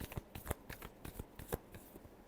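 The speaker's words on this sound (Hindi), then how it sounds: "last shuffle" Tarot cards being shuffled close up, a quick irregular run of soft papery riffles and slaps, faint and alone without talk.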